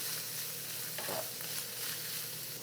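Ground beef picadillo being stirred back into a pan of softened sautéed vegetables, a steady low sizzle with soft scraping strokes from the utensil, close and continuous with no voices.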